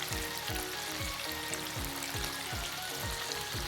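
Chicken fries in hot oil with a constant crackling sizzle, broken by regular low, rhythmic scraping or stirring sounds close by.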